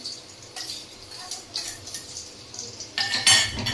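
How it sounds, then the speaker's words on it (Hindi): A knife chops garlic on a board for a tadka for mixed dal, giving a few light, sharp taps and clinks at close range spread over a few seconds, with a louder burst of clatter near the end. "अभी लहसुन काट रही हूँ, तड़का लगाना है ना।"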